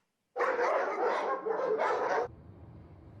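A service dog barks in a rapid, continuous burst of loud, close barks for about two seconds, then stops, leaving a low background hum.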